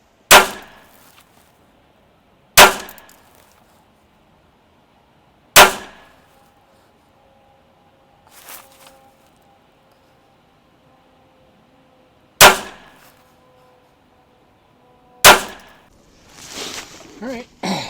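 A Ruger SFAR rifle loaded with Federal Premium, AAC and Hornady Black ammunition fires five sharp, loud shots at an outdoor range, widely and irregularly spaced, each followed by a short decay and quiet between.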